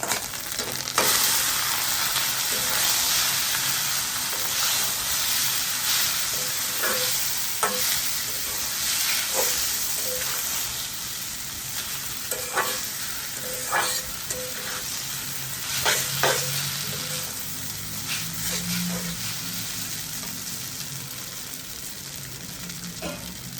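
Boiled noodles stir-fry in a hot pan, a constant close sizzle broken by repeated scrapes and taps of the spatula stirring them, with no one speaking.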